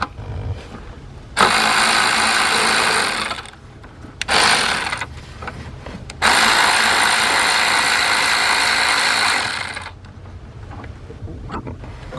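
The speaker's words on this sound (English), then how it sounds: "take the 10mm bolt out, and you're just going to wiggle the valve and pull it right out" Ratchet removing a 10mm bolt from a GM EVAP purge valve, heard as three bursts of rapid close clicking separated by short pauses, loud and alone with no talk.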